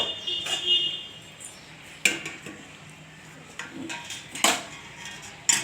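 Metal lid and spoon clanking against a cooking pot as it is covered, with a few sharp clinks separated by quieter gaps and a faint background hum.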